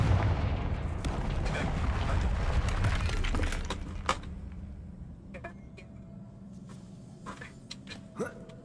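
A Confringo fire spell explodes in Hogwarts Legacy, a loud rumbling burst that slowly decays into a quieter tail with a few small pops and crackles afterward.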